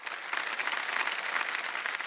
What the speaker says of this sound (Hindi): एक बार जोरदार तालियां बजाए हेमा जी के लिए